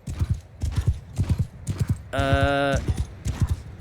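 Cavalry horses gallop in Mount & Blade II Bannerlord: rapid, loud clip-clop hoofbeats with a sharp horse whinny in the middle, while someone speaks briefly.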